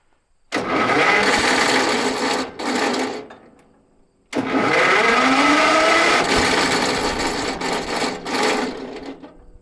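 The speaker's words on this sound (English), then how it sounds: "So we got a Bendix that's not pulling the gear back away from the flywheel." A wood chipper's engine starter grinds with its Bendix gear failing to pull back from the flywheel: a loud, harsh whirring burst of about two seconds, a short pause, then a longer grinding run of roughly five seconds.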